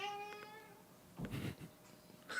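A cat meows softly a couple of times at the start, followed by faint rustling and a short burst of noise. The sounds are quiet and close, with no talking over them.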